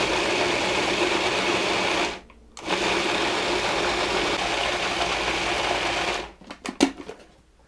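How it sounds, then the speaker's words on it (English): Kitchen blender pureeing a spinach and onion mixture, a loud steady motor whir running for about six seconds with a brief cutoff near two seconds, then stopping into a few clattering knocks. "I'm going to zap that up a bit and just puree the spinach and onion mixture"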